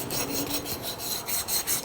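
Copper pipe being scrubbed clean before soldering, a close, rough rasping rub in quick repeated back-and-forth strokes, steady and fairly loud for about two seconds.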